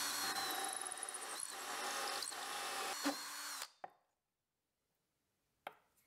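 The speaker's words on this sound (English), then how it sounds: "used both a hole saw and a jigsaw to cut out the shape" Hole saw driven by a power drill cutting through maple wood, a loud continuous grinding whine for several seconds that stops abruptly, followed by a couple of short knocks and then silence.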